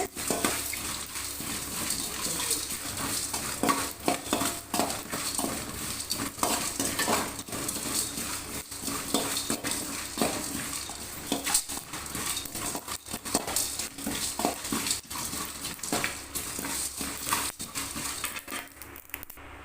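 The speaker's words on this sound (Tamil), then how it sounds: "எண்ணெய் ஊற்ற வேண்டாம் எண்ணெய் ஊற்றாமே வறுத்து எடுத்துக்கோங்க" Spice ingredients for tamarind rice dry-roast in a pan without oil: a continuous rattle and scrape of a spoon turning them against the metal, close and unbroken throughout.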